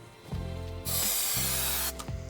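Spray adhesive hisses from a can while carpet lining goes into a van conversion, with two bursts of steady close hissing over a faint background music bed.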